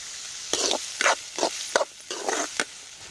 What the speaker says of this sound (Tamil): எண்ணெய் ஊற்றியாச்சு. கடுகு போட்டுக்கலாம். வெங்காயம் போட்டுக்கலாம். கருவேப்பிலை போட்டுக்கலாம்.